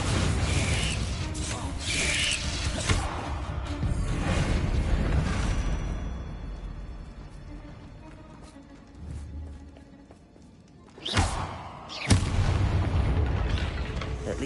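A Bombardo explosion spell goes off in Hogwarts Legacy: heavy, rumbling blasts with mechanical rattling and debris, a quieter lull, then two sharp loud bursts followed by sustained rumble.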